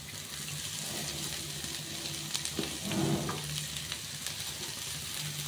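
Cabbage and onion sautéing in a pan, a soft, even sizzle with a few brief stirring scrapes near the middle.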